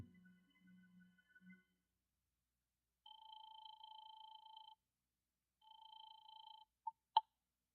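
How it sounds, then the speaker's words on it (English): A telephone call from a phone booth in an old radio drama: a short low tone, then two long electronic rings with a gap between them and two brief clicks at the end, faint and isolated. "then I beat it to the nearest phone booth and called Howard Wilcox's home"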